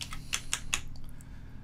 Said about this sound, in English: you can just type in your value right here